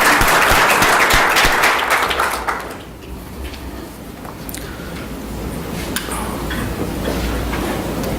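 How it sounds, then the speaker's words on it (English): Conference attendees applaud the Indian delegation at an ICAI-AU international conference: a loud, dense burst of clapping fills the hall for a couple of seconds, then quickly fades into murmuring room noise and shuffling. "really want you to give a round of applause for the Indian delegation"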